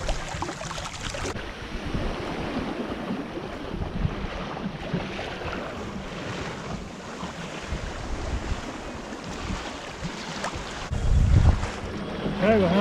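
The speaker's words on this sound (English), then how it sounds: "It's a beautiful sail, a lot quicker than the way out." A small sailing dinghy runs downwind before a light northeasterly breeze on open water, with a continuous wash of waves and rushing wind buffeting the microphone, close and steady throughout.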